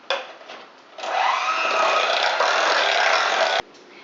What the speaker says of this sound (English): go ahead and mix your cake for 2 more minutes on medium